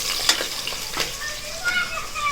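Curry leaves sizzling in tempering oil as they are stirred, a bright crackling fry with a few sharp spatters and spoon scrapes, close and steady over a couple of seconds.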